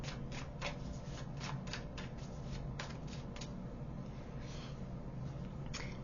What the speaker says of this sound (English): Let's get you some more cards.